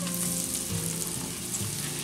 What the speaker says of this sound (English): We're gonna go ahead and melt some butter